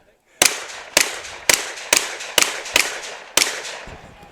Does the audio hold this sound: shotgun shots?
yes